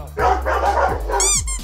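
Several people bark like dogs during a Cageball game, loud repeated woofs and yelps close up, voices imitating the sound in quick bursts.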